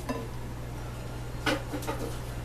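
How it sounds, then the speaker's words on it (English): A spoon stirs half a cup of melted, cooled butter into Southern buttermilk pie filling in a bowl, giving a few brief, soft clinks over a steady low kitchen hum. "give that a little stir."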